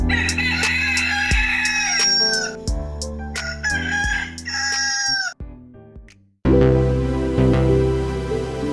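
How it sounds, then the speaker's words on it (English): A loud rooster crow, played as an opening cue, rings out in long drawn-out calls, broken by a short silent gap before a dense, sustained tone returns. "Let's cue the rooster and get this show started."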